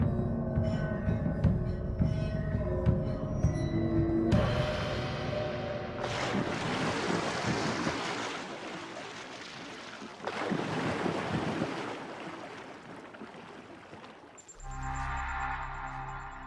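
Ocean surf rolls toward a Japanese shoreline amid a 2011 tsunami, heavy roaring washes swelling and receding alongside wind noise, with a tonal ringing background at the close.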